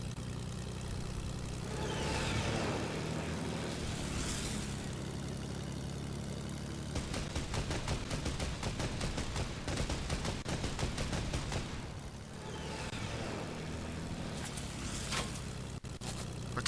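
Gunfire in the video game Fortnite: a fast, sustained burst of rapid shots in the middle, set against a steady droning aircraft or engine hum that continues throughout.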